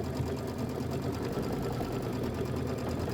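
Steady, close whirring hum of an embroidery machine stitching out a quilt border piece, continuous and even with a fine rapid needle rhythm throughout, no voices.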